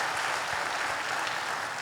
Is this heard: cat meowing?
no